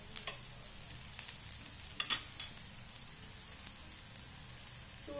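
Eggplant fries in oil in a pan with a soft, steady sizzle and a few sharper stirring clicks, fairly quiet and with no voices.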